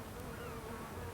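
A female snail bee buzzes steadily and faintly on a British coastal site among empty snail shells, a continuous insect drone with no voices.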